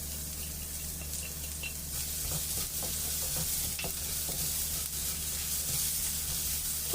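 Chopped onion goes into a pan of garlic already browned for Bicol express and sizzles steadily at close range, with faint stirring scrapes under the constant frying hiss.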